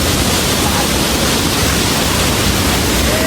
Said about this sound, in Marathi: पाण्याचा आवाज तुम्ही बघा आणि फील घ्या